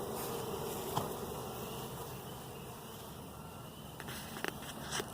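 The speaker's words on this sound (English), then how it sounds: "You see how these front bees up here are now fanning?" Honey bees fanning at the front of a swarm box during a swarm catch make a steady, dense buzzing drone that holds throughout, with a few faint ticks and taps near the end.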